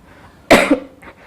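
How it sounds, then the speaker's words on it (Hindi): One short, dry cough, close and fairly loud, breaks an otherwise quiet moment. "मुझे वो 3-4 दिनों से सूखी खांसी, सांस लेने में तकलीफ और थकावट महसूस हो रही"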